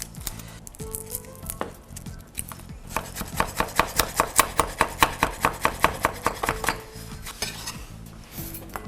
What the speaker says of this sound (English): So here I got the garlic. So take the skin out very easily, like so.